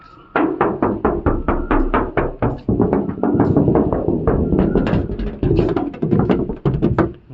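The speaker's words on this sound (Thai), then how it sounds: "อันนี้เป็นเสียงความบางของตัวรถนะครับที่อยากจะสื่อออกไป" Rapid knuckle knocks on the thin body panels of a 2017 Toyota Commuter van come in a dense, even series of hollow, close taps that continue steadily for several seconds.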